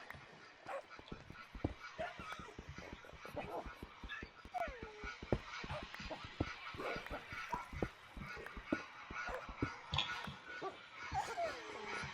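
Minecraft dogs bark over and over in quick, uneven bursts, with honking, yelping calls mixed in throughout.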